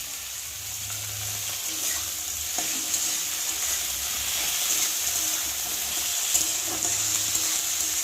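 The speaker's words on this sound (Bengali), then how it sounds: "এখন আলুগুলো মেখে ভেজে দিই" Spice-coated potatoes fry in a pan with a loud, continuous hissing sizzle, steady and close, broken only by faint stirring knocks.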